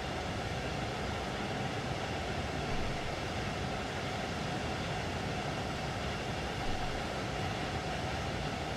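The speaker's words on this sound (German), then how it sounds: "Ich liebe es, wenn sich der Zug so in die Kurven legt." An IC 2 train runs from Dresden Hbf to Riesa in the video game Train Sim World 3, leaning through curves with a continuous, even rumble and rolling noise heard from inside, steady and moderately loud, with no talk.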